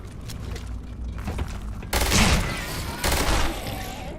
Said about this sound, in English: Gotta remember, this gun is painful up close.